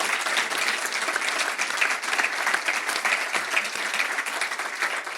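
An audience at an evening talk with three guests claps steadily and densely for several seconds, a full, even round of applause with no voices over it.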